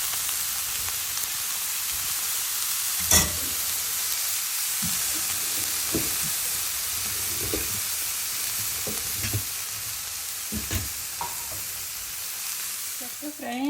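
Beetroot and grated coconut fry in a non-stick pan, giving a steady close sizzle with soft scraping stirs and occasional louder clacks of a spoon against the pan.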